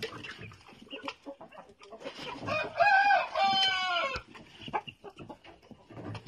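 Roosters from a hobby flock of fighting-breed birds crow loudly in the middle of the clip, rising and holding, with clucking and farmyard bird noise around them and no talk.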